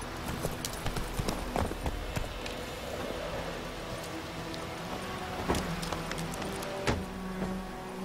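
A horse galloping in the video game The Witcher 3, quiet hoofbeats thudding in an uneven run beneath a dense hiss of game ambience, with a few sharper knocks along the way.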